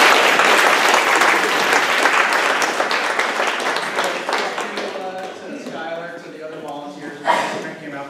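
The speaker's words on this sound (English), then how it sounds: "We'll give you a round of applause." An audience at a neighborhood association meeting applauds loudly, the clapping thinning and fading as a voice starts speaking near the end.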